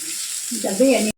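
A spiced mixture frying in a pan gives a short, close sizzle that swells briefly before cutting off abruptly.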